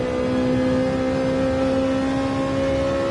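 A racing car engine from Gran Turismo 7 hums steadily with a strong tonal whine, holding a sustained pitch from somewhere nearby throughout, on the Daytona road course.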